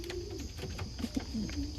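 Several pigeons coo nearby in soft, low, repeated throaty calls, overlapping irregularly against a faint background hum.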